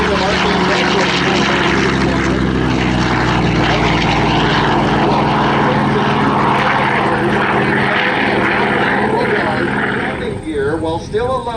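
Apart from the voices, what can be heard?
Vought F4U Corsair propeller fighter aircraft launching at airshow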